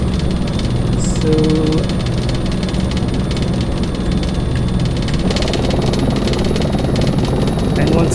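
Simulated helicopter engine from a desktop flight simulator game, a steady broadband drone and rumble running continuously with a voice talking over it.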